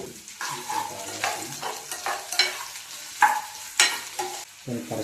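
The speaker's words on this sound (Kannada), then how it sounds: "ಈಗ ಓನಿಯನ್ ಹೈ ಫ್ಲೇಮ್ ಮೇಲೆ ಫಾಸ್ಟ್ ಆಗ್ತಿರ್ಲಿ" Onions fry fast over a high flame for a mushroom pepper dry, a crackling sizzle that surges with each push of the spatula in rhythmic scraping strokes, near and fairly loud, no talking.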